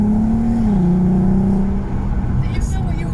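VW Golf R32 Mk5 with its VR6 engine revving, a loud close-up drone that climbs, holds and then drops away with a brief dip, while a voice is heard over it.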